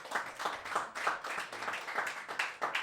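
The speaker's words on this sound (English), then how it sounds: "Clap it up if you're married." Married members of a live stand-up comedy audience clapping in response to a prompt, a short, fairly light patter of applause from a modest crowd, heard at some distance.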